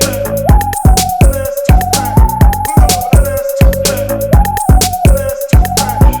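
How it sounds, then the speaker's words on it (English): A club beat plays with a punchy kick driving a steady pulse under a deep club bass line and bright repeating synth hits, loud and continuous with no voices. "We need like that flipping club bass."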